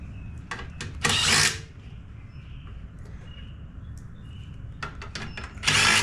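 A socket wrench working bolts on a Craftsman push mower with an 8 mm socket, heard as two bursts of loud rasping ratchet noise separated by quieter clicks and small metallic taps.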